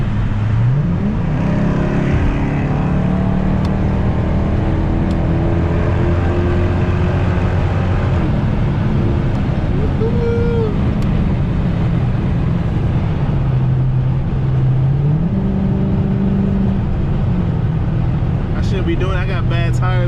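A car with bald, burnout-worn tires is driven at night, its engine droning loud and steady and rising and falling in pitch through gear changes for the whole stretch.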